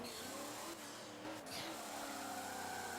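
A car drifts on the Suzuka East circuit in Forza Motorsport 7, its engine revving and shifting while the tyres squeal through a short slide, at moderate, fairly close level.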